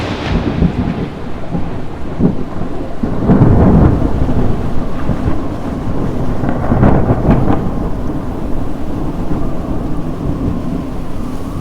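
A thunderstorm over the Shengleng forest canopy in Shei-Pa National Park, Taiwan: steady heavy rain throughout, with deep thunder rumbling loudly twice.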